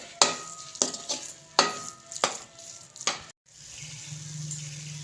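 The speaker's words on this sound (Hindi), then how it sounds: "यहाँ पे हमने 3 से 4 मिनट हम इसकी लो आग पे हमने इसकी करनी है भुनाई" Chana dal being stirred and roasted in a pan over low heat, a spoon scraping in several sharp strokes over a soft, faint sizzle, followed by a pause and then a low steady hiss.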